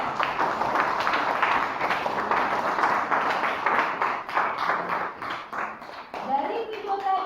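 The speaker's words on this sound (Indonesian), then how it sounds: "tepuk tangan dulu untuk teman kita" Students in a classroom give a short burst of clapping, quick irregular claps close by, overlapping with speech and chatter.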